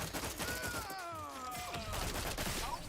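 Video game gunfire crackles in a rapid, continuous patter of faint shots mixed with whistling game effects, steady across the moment and without talk.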